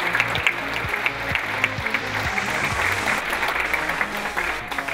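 A film festival crowd applauds continuously, dense clapping and cheering filling the space at steady volume throughout.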